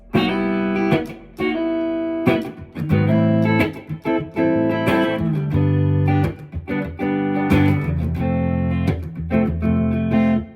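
Guitar-like chord progression, each chord slid into from a semitone below, heard as a series of loud, distorted strummed chords with pitch glides at their onsets and short gaps between changes.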